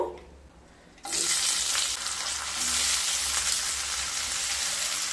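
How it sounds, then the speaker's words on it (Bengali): Two medium chopped onions dropped into hot oil in a pan: after a quiet second, a sudden loud hissing sizzle erupts and continues steadily, with faint stirring scrapes beneath, close and alone. "এবার ওই তেলের মধ্যে দুটো মিডিয়াম সাইজের কেটে রাখা পেঁয়াজ দিয়ে দেব।"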